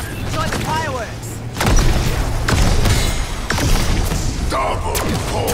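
Explosions from a wonder pistol in the zombies mode of Call of Duty: Black Ops, a run of loud booming blasts and thuds over continuous game noise, with a voice talking throughout.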